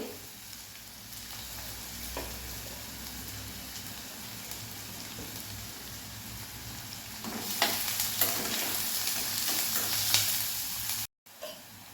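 Onion sautéing in hot oil on a medium flame gives a continuous, close crackling sizzle that swells louder in the second half, with occasional stirring scrapes and a brief cutoff near the end.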